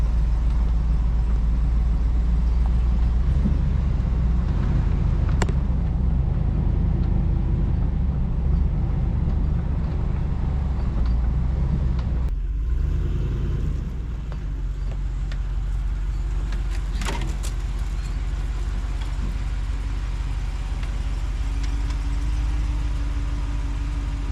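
Pickup truck towing a camper creeps slowly into a lakeside campsite, a steady close engine drone with low rumble throughout, holding even at low revs with brief shifts near the end.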